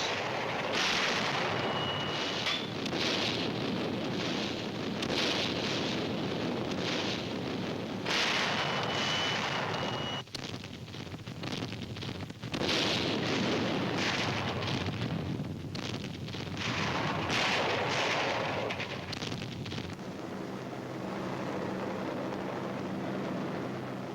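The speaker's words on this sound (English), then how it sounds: "The naval bombardment continues." Deep rumbling naval bombardment with heavy artillery fire on D-Day, booming continuously in long rolling waves, loud and sustained, with a brief lull partway through.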